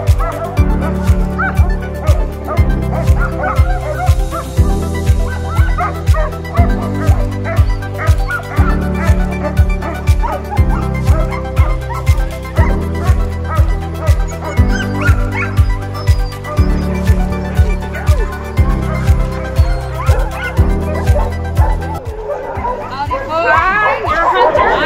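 A pack of sled dogs near Juneau barks and yips excitedly in a steady, loud, rhythmic clamor throughout, with some whimpering mixed in.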